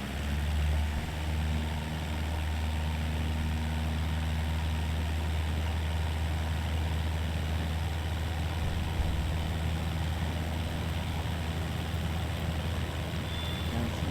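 A light aircraft's engine hums steadily and loudly through a soft field takeoff in a flight simulator, a constant low drone with no pauses and no talking over it.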